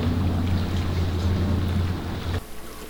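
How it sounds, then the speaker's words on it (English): Steady low rumble of a boat's PCM 351 Ford engine out on a lake, close and continuous, mixed with wind and water noise, the rumble dropping away near the end. "we can just listen to the gentle rumble of that PCM 351 Ford engine"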